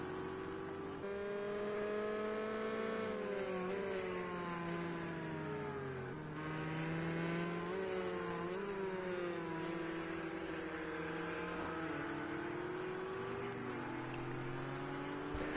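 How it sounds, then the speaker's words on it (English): Race car engines from GTE cars in a racing video game at the Nürburgring GP circuit roar continuously, rising and falling in pitch as several cars sweep past, loud and steady throughout with no talking. "we just heard a lovely bit of sound of the cars blurting around."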